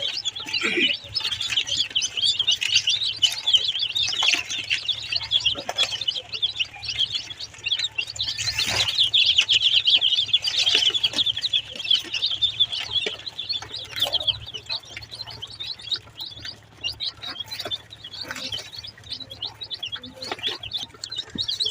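Native hens and their chicks gathering to eat, a busy mix of high chirps and peeps with soft clucks, continuous and close with some irregular bursts.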